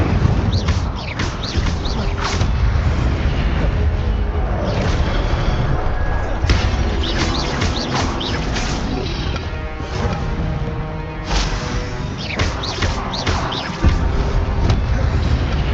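Spell casting in the video game Hogwarts Legacy: a dense stream of whooshes, crackling blasts and thuds over continuous game sound, while a voice calls out spell names throughout.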